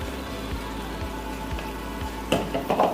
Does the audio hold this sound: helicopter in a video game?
no